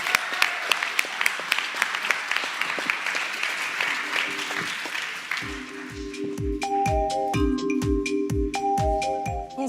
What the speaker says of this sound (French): je vous appelle à applaudir Manon de Cabaru et Alexandre Collin de Sciences Po TV